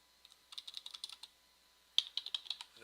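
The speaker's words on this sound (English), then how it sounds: "So we'll start typing it out so we can read it better later." Typing on a computer keyboard while drafting an elevation certificate: quick bursts of light key clicks, close and fairly faint, a pause, then a second run of taps, with no voices.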